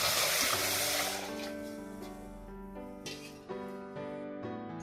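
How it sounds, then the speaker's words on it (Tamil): Water pours noisily into a preheated pot on the stove for ven pongal for about a second, then the splashing gives way to background music. "தண்ணீர் ஊத்திக்கணும்."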